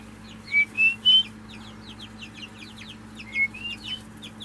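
Several chickens cluck and chirp in short bursts over a steady low hum, fairly close, with no voices.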